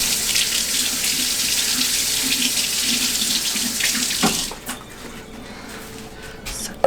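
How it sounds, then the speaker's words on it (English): Tap water runs steadily into a sink while a bottle cap is rinsed under the faucet, a bright continuous splashing that cuts off partway through, leaving a quiet room with a few small clicks. "now I have to rinse the cap off"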